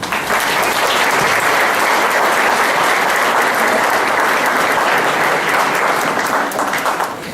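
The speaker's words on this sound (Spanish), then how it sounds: "Un aplauso para él." A conference audience applauds steadily and loudly throughout, dense sustained clapping from a large crowd with no voices over it.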